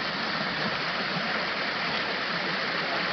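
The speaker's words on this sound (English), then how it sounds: "There's another waterfall." Waterfall on Leatherneck Creek in the Arkansas woods near Ponca, a steady, close, full rushing roar of falling water with no break, filling the whole stretch alone without voices.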